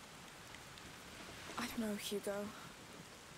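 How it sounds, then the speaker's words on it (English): Rain in A Plague Tale: Requiem hisses softly and continuously in the background while a character speaks briefly over it; no thunder stands out. "You could hear the rain and everything too."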